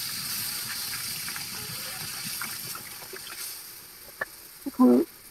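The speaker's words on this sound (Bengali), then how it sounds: "এখন যেটা দেওয়া হচ্ছে সেটা হলো গরুর দুধ।" Cow's milk is poured into a chicken biryani spice mix in a village kitchen, a soft watery trickle under faint background noise, ending in a brief, louder gushing splash.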